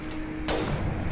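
A single gunshot from a weapon in Mass Effect Legendary Edition cracks sharply midway, fairly close and loud, over a steady low background hum, followed by brief lingering rumble.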